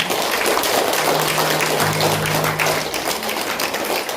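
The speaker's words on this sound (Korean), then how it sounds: "뜨거운 박수 한번 부탁드립니다" Sustained applause from a church congregation at a women's ministry Sabbath school service, a dense, even wash of clapping that carries on without a break.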